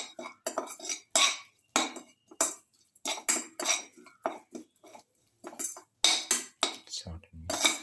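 A spoon clinks and scrapes steadily against a bowl while winter melon raita is mixed with salt, bright metallic taps coming in quick bursts, close up with no talk.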